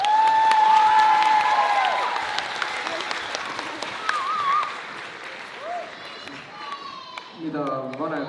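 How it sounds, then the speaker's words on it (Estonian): A school audience at a gymnasium playback show gives teachers a burst of applause and cheering that fades after a couple of seconds, with shouts and voices talking over it. "Aplaus õpetajatele."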